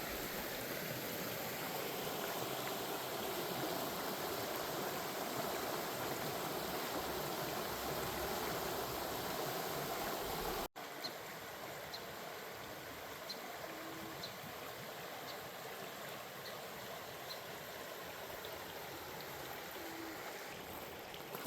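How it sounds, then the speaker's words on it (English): A mountain stream beside a hiking trail rushes in a steady, close, broadband wash of flowing water that drops to a softer, more distant burble partway through. "Pretty streams here."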